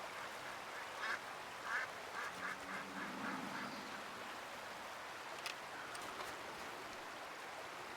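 Ducks quacking in the open-world game Red Dead Redemption 2: faint, scattered bursts of quacks and honks clustered in the first few seconds over a quiet, steady ambient hiss.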